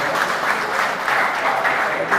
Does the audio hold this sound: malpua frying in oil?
no